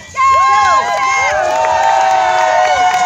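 Crowd cheering and shouting at a lumberjack show during a sawing race, loud and close with many overlapping voices, children's shrieks and whoops sustained throughout.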